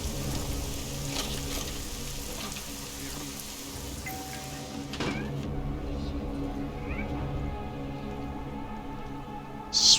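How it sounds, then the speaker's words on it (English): A cat meows in Deus Ex: Mankind Divided over rain-like ambience and humming game tones. The cries are clear and moderately loud, and a sharp loud sound comes at the very end. "Swear I just heard a cat."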